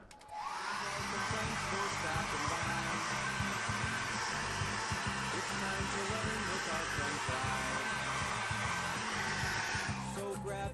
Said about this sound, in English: I dry it with my hairdryer.